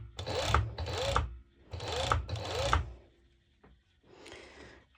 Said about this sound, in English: I'm going to overlock this bit exactly what we've done